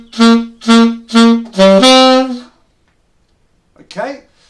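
Alto saxophone playing the opening phrase of a melody. Four short, punchy notes end on a held tone, followed by a pause and a brief voice.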